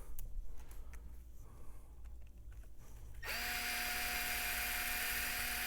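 A handheld power driver runs 3 mm screws into an Outcast 8S RC car near the turnbuckles: quiet handling clicks, then a steady, close, whirring motor drone that starts abruptly and holds to the end.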